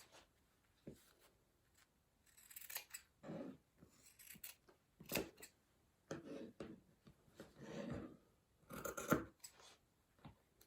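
Scissors snip through fabric pieces for a handmade doll, a quiet, close series of short crisp cuts in irregular bursts with pauses between, no voices.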